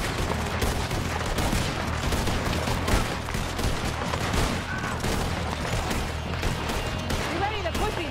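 Rapid gunfire from a multiplayer shooter game battle near a bridge, dense and continuous throughout, with overlapping bursts and occasional shouted speech mixed in.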